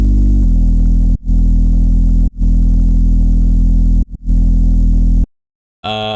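A deep, loud sub bass drones steadily, broken by a few brief dropouts, then cuts to silence before a short burst of brighter sound.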